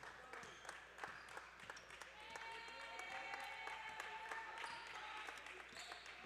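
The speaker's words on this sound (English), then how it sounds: "And the women's team of the Bengals to our right, cheering the men's effort here." During a men's college basketball game, the women's team cheers and claps from the side, a scattered patter of claps and shouts in a gym with ball bounces and squeaks under an announcer's voice.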